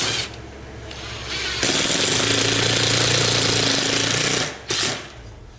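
A 3-inch screw is driven into a wooden front door jamb with a power drill, a loud close buzzing whir that rises in pitch and strain, then briefly stops and restarts.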